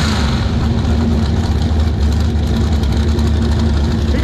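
A hot rod engine at a drag racing raceway runs loud and close with a deep, rumbling idle, steady and continuous throughout.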